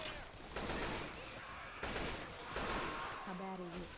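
Gunfire in the zombie shooter Left 4 Dead 2 crackles in dense overlapping bursts throughout, loud and continuous, with other game sounds mixed in.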